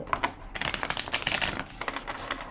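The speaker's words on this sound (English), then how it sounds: "Two more shuffles." Tarot cards being shuffled by hand, a rapid series of crisp riffling and rustling bursts, close and fairly loud, with brief pauses between shuffles and no talking.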